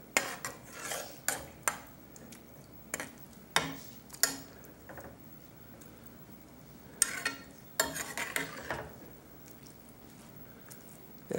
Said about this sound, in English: And I stir this into that.